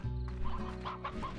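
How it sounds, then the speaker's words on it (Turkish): Chickens in the ranching video game Slime Rancher cluck steadily for a second and a half, a layered run of close, fairly loud fowl calls with no talking over them. "Tavuk sesi var mı etrafta?"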